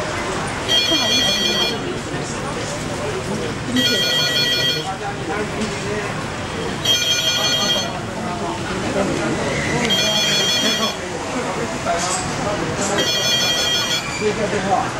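A telephone rings in repeated bursts, about five rings spaced roughly three seconds apart, over a busy background of people talking nearby.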